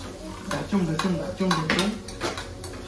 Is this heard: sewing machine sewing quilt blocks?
no